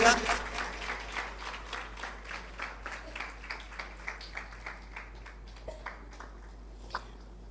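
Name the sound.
audience applause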